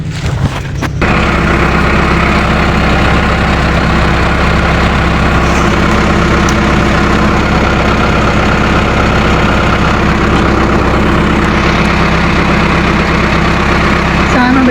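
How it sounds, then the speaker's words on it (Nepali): A tractor engine catches after a short bump at the start, then idles loud and steady with a low, even drone that holds unchanged to the end, with no talk over it. "ट्र्याक्टर स्टार्ट गर्नु पर्ने त"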